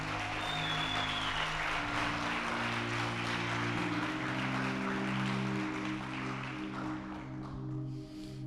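Church congregation clapping in praise, a dense sustained wash of applause with music or voices droning underneath, holding steady before easing off near the end.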